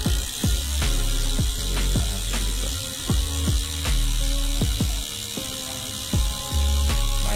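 Freehub ratchet clicking from a Polygon Stratos S7 Disc Brake 2021 road bike wheelset, rapid ticks in quick bursts that stop and restart several times, close and fairly loud with no voices.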